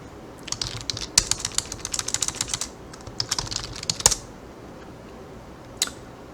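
A password typed on a computer keyboard: bursts of quick, close, crisp key clicks in an uneven rhythm, then a lone final keystroke after a pause, with no talking.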